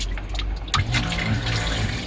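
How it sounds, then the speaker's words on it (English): Noisy water pump running in a Renault Master camper van conversion, a steady close hum and whir under rushing water flow that continues throughout, with a brief clunk as it kicks in. "is a noisy water pump."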